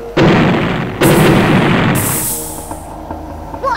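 Bombs in Worms World Party go off in close succession, two loud booming blasts followed by a hissing burst, trailing into rumbling decay with small pops.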